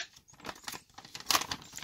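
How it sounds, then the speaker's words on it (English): Crinkly plastic bag being squeezed and massaged around an oiled air filter from a nitro Earthquake 3.5 RC truck, giving soft irregular rustles and crunches up close, a brief sharper crinkle near the end, no talking. "Going to put it in a plastic bag."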